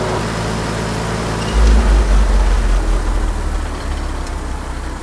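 A heavy tractor engine rumbles steadily at close range, swelling louder for a couple of seconds before settling back to a steady idle.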